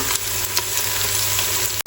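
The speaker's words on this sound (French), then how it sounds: "on est reparti pour 2-3 minutes pour faire suer notre ail" Garlic sweats in a pan over medium-high heat for Texas chili con carne, giving a steady, close, even sizzle with faint stirring and no voices.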